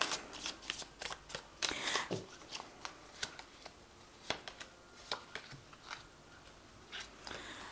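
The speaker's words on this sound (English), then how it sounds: "I'm just going to draw some cards from this oracle deck that I have" Cards from an oracle deck being shuffled and drawn during a tarot reading, a close, quiet run of crisp riffling flutters and light papery slaps in an uneven rhythm, with no voices.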